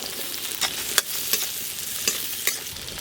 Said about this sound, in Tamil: சின்ன வெங்காயத்தை அப்படியே எண்ணெயில் நல்லா ஃப்ரை பண்ணிக்கிறோம்.